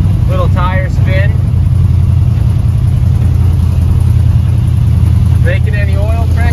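Low rumbling idle and slow driving of a Chevy C10 pickup truck's engine, steady and close, rolling onto a dirt road after sitting for years; someone talks briefly over it at the start and end.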